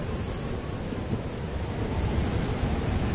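A thunderstorm from the video game Life is Strange Double Exposure rumbles in a continuous, dense wash of rain and low thunder, steady and fairly loud throughout with no voices.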